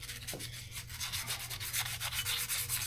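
A clutch bushing in a 2018-2020 Polaris RZR Turbo is sanded and rubbed clean by hand, a steady close rasping scrub repeating in quick strokes with no speech.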